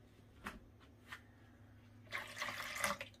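Hot water is poured into a mixing bowl for skillet bread dough, starting with a few faint drips and then a short, louder splashing pour, close by in a quiet kitchen.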